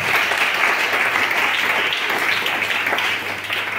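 A church congregation breaks into steady, dense applause and clapping that fills the room evenly for several seconds, then eases slightly at the end.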